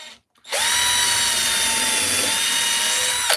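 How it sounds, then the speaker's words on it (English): A power drill bores into wood for a woodcarving job, starting after a brief pause and then whining steadily at close range with a high, even motor tone, loud and alone with no talking. "So what we're going to do is just drill here."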